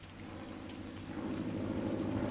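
Steady rain pours down with a low rumble of thunder building underneath, growing a little louder over the few seconds.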